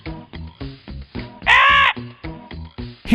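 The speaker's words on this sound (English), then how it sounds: "Near her house, there lived a crow." A cartoon crow caws in a children's story, giving a loud, close, rhythmic series of short squawks with one longer, harsher cry in the middle.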